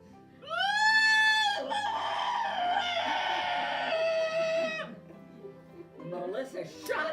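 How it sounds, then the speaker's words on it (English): A rooster lets out a long, loud, strained crow with a shrill rising start, followed by a stretch of quieter clucking and rustling fowl sounds near the end. "I thought roosters were supposed to say cock-a-doodle-doo"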